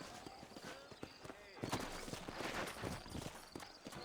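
Horse hooves clip-clop in a steady walking rhythm, close by, with rustling and creaking around them, from the video game Red Dead Redemption.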